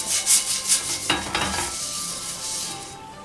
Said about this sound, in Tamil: ஒரு தோசை பேனில் கொஞ்சமாக எண்ணெய் விட்டுட்டு ஒரு வெங்காயத்தை வச்சு நல்லா இதை தேய்ச்சி விட்டுறலாம்.